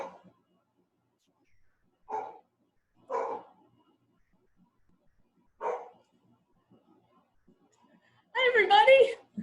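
Several isolated barks from an excited puppy ring out a second or more apart amid near-silence, followed by a person beginning to speak.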